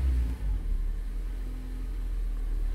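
A cold car engine running on LPG idles with a steady low rumble, close and even, no voices over it.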